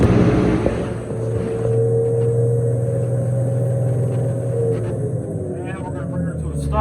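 A Trackmobile Titan railcar mover drives along in second gear, its diesel engine holding a steady, loud droning rumble with a sustained tonal whine, the sound dipping briefly near the start before settling into an even run.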